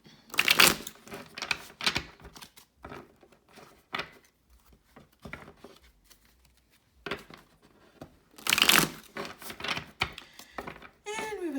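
A deck of tarot cards is shuffled in two quick riffling bursts separated by quieter handling taps and rustles, close and crisp.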